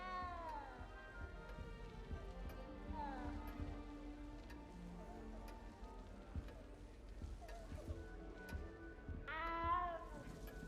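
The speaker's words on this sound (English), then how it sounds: "That cat is loud and annoying." Loud, repeated meowing of a cat inside Hogwarts Legacy, with rising and falling cries throughout and a sharp, strained yowl near the end, over a busy game soundscape with light patter and faint voices.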